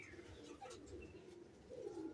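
Low, throaty cooing from racing pigeons in a loft, a quiet rolling call rising near the end against steady background hiss, with no one speaking.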